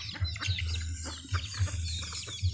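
Domestic chickens cluck close by in a backyard flock, with several short, low clucks repeating in an uneven rhythm over faint background noise and no talking.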